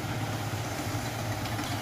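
A Yamaha R15 V3 motorcycle engine idles steadily after a coolant and engine oil mixing fault was repaired, giving a continuous low, even rumble close by with no talk.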